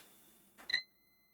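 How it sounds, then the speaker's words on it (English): A handheld electrical tester gives a short continuity beep, a brief tonal chirp standing out clearly against a quiet background. "You get a little green backlight and an audible sound when you get continuity."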